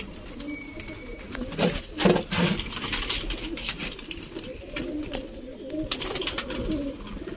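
Pigeons being released coo in a steady murmur while bursts of wing flapping rise and fall, a busy flock close by with no talking.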